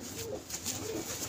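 A panja pigeon, a young bird with an old leg injury, gives soft low coos while held in the hand, steady and close over faint background noise.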